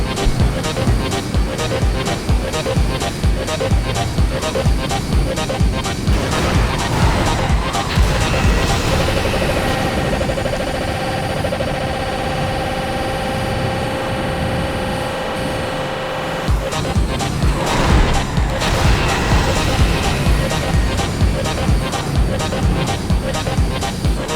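A car in the racing game Midnight Club 2 drives along a freeway, its engine a constant buzzing drone mixed with game effects and music, and someone talks over it almost the whole time.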